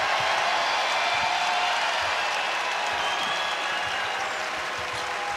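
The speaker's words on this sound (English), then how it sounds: "listen to this crowd" A basketball arena crowd roars in a steady, loud wash of cheering and applause through the whole stretch, with no break, at an SEC Tournament semifinal game where Vanderbilt looks set to win.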